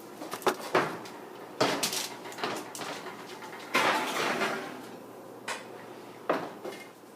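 A foil-covered lasagna dish goes into a 375-degree oven: clattering dish knocks, the oven door creaking open and shutting with a thud, and a few quieter clunks and metallic taps close by.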